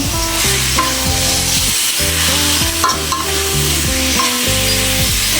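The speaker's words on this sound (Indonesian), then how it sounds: "Nah, kita masukkan ayamnya. Kita aduk" Chicken frying in a pan being stirred, a loud steady sizzle with scraping strokes of a utensil and some tonal hum or music underneath.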